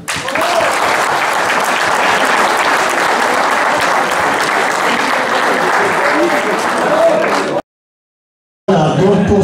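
An audience at a hunting-dog pack trial in Roiffieux, 2023, claps steadily for a handler and his dogs, a dense, loud, unbroken wash of applause that cuts off abruptly near the end before a brief return of sound.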